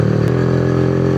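Several motorcycles ride along Margalla Road in Islamabad on a group trip, with a loud, steady engine drone held close throughout and no talking.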